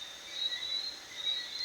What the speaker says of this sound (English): I am now hearing those crickets.